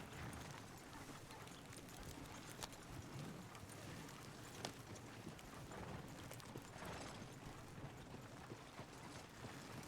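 Horse hooves gallop in a steady, rapid clip-clop rhythm through Red Dead Redemption 2, loud and continuous over the game's ambient outdoor wash, with no talk over it.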